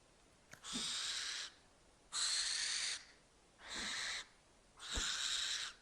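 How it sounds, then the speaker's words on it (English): An owl hoots in a video game demo, four sustained calls spaced evenly apart, each clear and fairly loud against a quiet background. "Oh, that was an owl sound, I bet."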